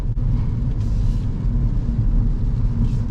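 A 2025 Mini Cooper S 4 Door on the road, heard from inside as a steady low rumble of engine and road noise with no talking.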